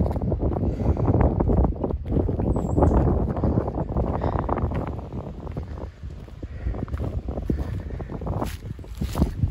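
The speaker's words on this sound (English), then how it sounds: "It's a little windy." Strong gusts of wind buffet the microphone outdoors during brush clearing among large oaks, a loud low rumble that swells and eases over the whole stretch with no one speaking.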